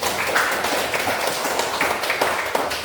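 A class applauds together, a steady, fairly loud patter of many hands clapping over a murmur of voices and room noise for a few seconds.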